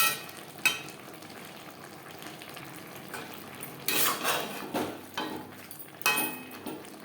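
Pumpkin and pui shak with green chilies fry in a pan on high flame for a vegetarian ghonto, giving a faint, steady sizzle broken by a few louder stirring scrapes and utensil clinks.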